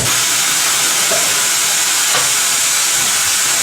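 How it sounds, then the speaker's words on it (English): A pneumatic tire changer's bead breaker presses against a tire, giving a loud, continuous air hiss that holds steady from start to finish. "Press the pedal to compress the tire."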